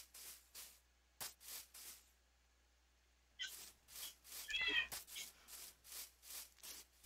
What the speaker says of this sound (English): You've got your cats following you.